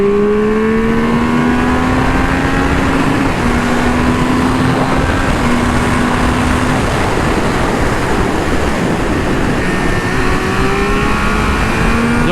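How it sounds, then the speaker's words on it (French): A Triumph Speed Triple 1200 RR motorcycle engine drones steadily while riding, its pitch shifting with gear changes, heavily mixed with loud, constant wind rush on a windy day. "je vais quand même essayer de faire profiter du son de la moto."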